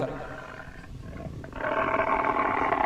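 A human voice imitates tigers roaring in a jungle, a low sustained growl that swells louder and more forceful about halfway through and holds to the end.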